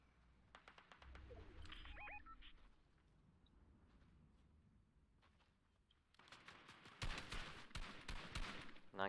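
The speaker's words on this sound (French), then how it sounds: "Ça tire là-bas." Gunfire in the video game Fortnite: scattered distant shots early on, then a loud, dense burst of rapid automatic fire near the end, with quiet gaps between.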